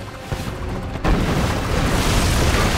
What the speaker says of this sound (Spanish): Utilizad los torpedos contra los barcos.